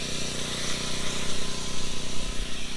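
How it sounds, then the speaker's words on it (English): Steady, dense sizzling hiss of fish frying in a hot pan at a riverside campsite, constant and close, with a low background hum. "Love the sizzle."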